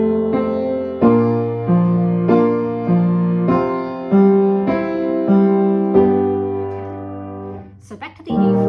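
Piano chords and melody played in a steady, moderate rhythm, each note ringing with sustain, ending with a few quieter touches near the close.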